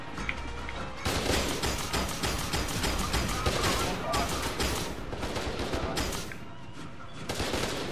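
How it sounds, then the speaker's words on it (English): Sustained gunfire rattles through a firefight in the video game F.E.A.R. 2, a dense, continuous barrage of rapid shots layered under other game noise, with a voice talking over part of it. "I don't get how you're still shooting me,"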